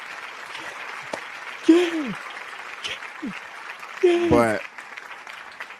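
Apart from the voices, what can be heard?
applause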